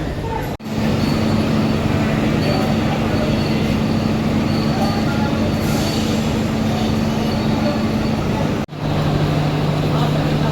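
Close and loud, the Darjeeling Mail runs from Sealdah toward New Jalpaiguri, heard from inside a general-class coach. A continuous heavy rail rumble with a low steady hum drops out for two very short breaks.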